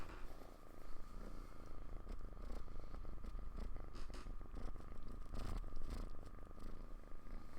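A cat purrs close and continuously in a steady low rumble that lasts throughout, with no talking over it.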